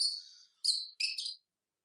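Pet birds indoors give three quick bursts of high chirping and twittering, close and moderately loud, with silence in between.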